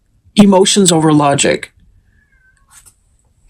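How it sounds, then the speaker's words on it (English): A cat lets out a loud, drawn-out, unhappy meow close by while a voice speaks briefly, then the room falls quiet. "You may hear my cat meowing unhappily."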